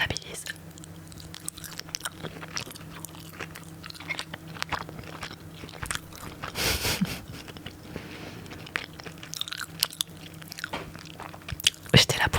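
Fried chicken is bitten and chewed up close, with soft crunchy bites and wet chewing repeating steadily, faint low murmurs in the background.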